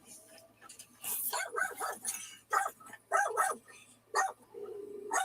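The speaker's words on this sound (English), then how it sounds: "Well, that's John Hazelton's dog." A dog barks in repeated sharp bursts, some yelping and whimpering between them, close by and fairly loud, with a voice briefly heard.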